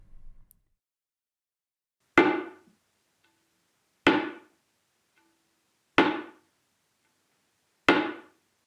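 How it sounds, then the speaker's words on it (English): Four clean tabla strokes, the ra made by striking the center of the shahi with the index finger, played slowly and evenly about two seconds apart, each a dry, close tap with a brief decay amid silence. "Ra is then played by using the index finger and hitting the center part of the shahi"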